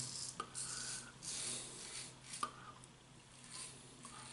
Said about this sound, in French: j'aime beaucoup le son que le rasoir fait